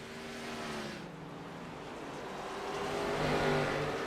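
Race cars circle the Martinsville track, engines droning and shifting pitch as they rise and fall, a moderately loud, continuous roar that swells near the end.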